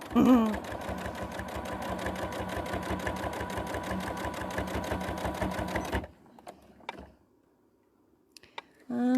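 A sewing machine stitches a bag, a rapid, regular mechanical ticking and whirr running close and loud for about six seconds, then stopping abruptly into near silence broken by a few small clicks.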